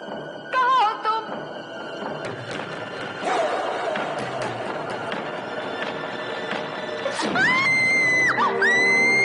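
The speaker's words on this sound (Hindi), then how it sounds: "कमाल, तुम भी कमाल का चीखती हो" A woman screams loudly in a tense horror-comedy scene, her shrill, wavering cries rising over a busy background of thuds and commotion, with the loudest screams bursting near the end.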